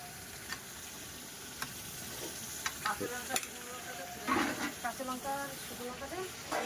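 Spices with garlic, ginger, onion and dried chilli sautéing for a large pot of mutton over a wood fire, a soft sizzle with intermittent scraping and knocking stirs, and voices talking over it.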